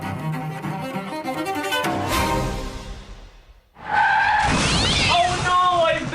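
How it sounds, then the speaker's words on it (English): A car skids in an accident with a long screeching tire squeal and rushing whoosh after a stretch of music, loud and close. "Oh no, I've been in a car accident."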